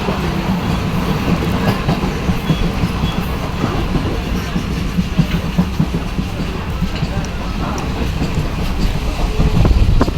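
Train at a crowded station after passengers step off, Teliamura to Dharmanagar route: loud continuous rumble and clatter of rail cars with crowd noise and voices mixed in throughout.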